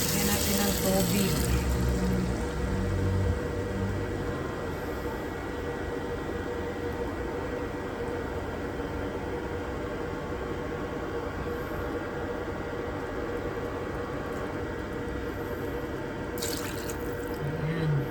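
Water running steadily into a cooking pot of chicken tinola with moringa, lemongrass and pepper, a continuous close splashing gush that stays even throughout, with a brief louder burst near the end.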